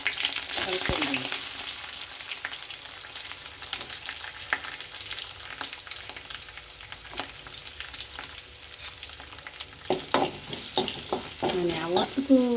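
Onion fries with dried red chilli and curry leaves in a pan, a continuous sizzle broken by scraping stirs, and the stirring gets busier and louder near the end.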